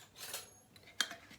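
A single light metallic clink of a spoon against a dish while preparing hair dye with instant coffee, faint and brief, after some soft rustling.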